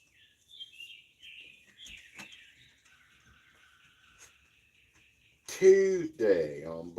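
Faint high chirps and twittering from birds in the distance over a quiet background, then a voice briefly speaks near the end.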